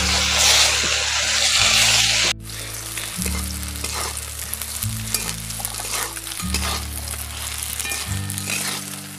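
Soybean chunks frying in hot oil while homemade soyabean is prepared, a steady loud sizzle with stirring clatter and a low periodic hum running underneath throughout.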